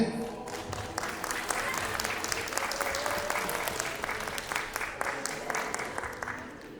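Audience applause at a Bulgarian school patriotic competition, a steady dense wash of many hands clapping that runs evenly throughout without a break.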